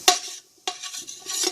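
A spoon scrapes and clinks through lentil, tomato and vegetable soup in a pot, a sharp metallic knock, a short pause, then several quick stirring scrapes close up.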